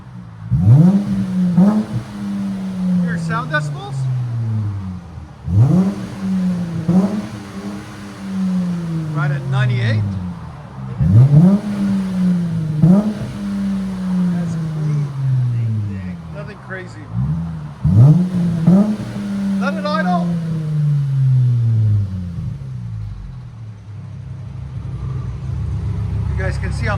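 Close revving of a 2019 Dodge Challenger GT 3.6L V6 fitted with a Netami turbo resonator, four evenly spaced throttle pulls each rising to a loud howl and sliding back down, before settling into a low idle rumble.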